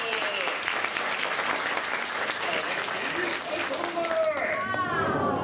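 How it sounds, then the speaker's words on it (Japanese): An audience at Tokyo DisneySea's Turtle Talk show claps in encouragement, a steady crowd applause with children's excited voices and squeals rising over it near the end. "みんなリオに応援の拍手だ"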